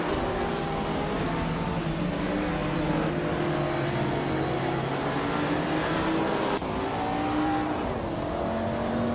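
Several racing cars, including a 1959 Maserati Tipo 60/61 Birdcage, roar around a track mid-race, their engines droning and shifting pitch continuously with no pause.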